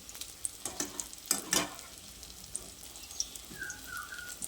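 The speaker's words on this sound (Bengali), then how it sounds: "গ্যাসের ফ্লেমটাকে হাইতে করে বেগুনগুলোকে ভেজে নিতে হবে" Eggplant slices frying in oil over a high gas flame, a faint steady sizzle with a few louder stirring or turning sounds partway through, no voices.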